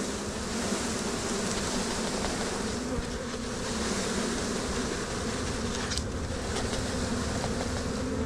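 A dense, continuous hum of honey bees fills the space as a package colony is shaken and poured into a hive, loud and close, with a brief knock partway through.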